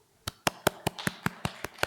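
A run of about nine sharp, evenly spaced hand claps rings out in a steady rhythm during a church service, moderately close and without any talk over it.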